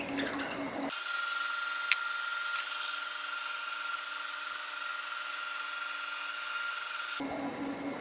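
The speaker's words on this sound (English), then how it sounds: "I think that's right about when the sound changed and we hit cast iron." Precision Matthews PM-1228 lathe cutting into cast iron, a steady high-pitched machining whine holding evenly for several seconds with a single sharp tick early on, close and alone with no talk.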